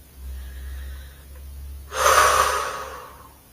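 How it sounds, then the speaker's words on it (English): A single deep breath taken near the microphone: a quiet lead-in, then a loud, airy intake or exhale that swells and slowly fades, with no talking. "take a deep breath"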